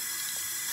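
Warm water runs steadily from a tap into a sink for washing a face, a soft continuous hiss heard briefly and close.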